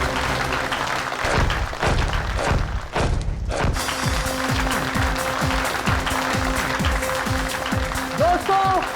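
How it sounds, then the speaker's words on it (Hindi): A studio audience applauds a performer on a television show, loud dense clapping mixed with thumps and music tones, continuous throughout. "जोरदार तालियां हो जाए फैजल के लिए"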